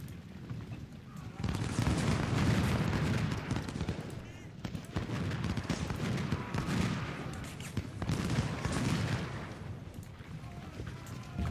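Skirmishers trade musket fire in an Ultimate General: Civil War battle at Chickamauga, a dense rolling crackle of volleys that swells and fades in waves, loud and continuous with no pause.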